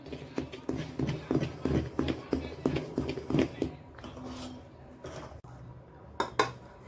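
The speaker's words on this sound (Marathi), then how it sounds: "चांगलं फेटून घ्यायचं आहे।" Idli batter with salt whisked in a bowl, a quick steady run of close, light clacking beats from a spoon against the bowl that slows and thins out near the end, with no talking.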